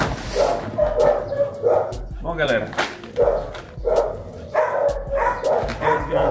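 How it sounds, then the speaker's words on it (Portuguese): Several pet dogs bark in sharp repeated bursts at close range, mixed with yips and whines, while a person talks over them. "Já ouvi o bagulho, tá latindo."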